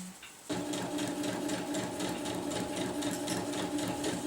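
A sewing machine stitches a 1-inch seam along gray hammock fabric, starting abruptly after a brief quiet moment and then running steadily and close by with a fast, even mechanical whir and rapid needle ticking.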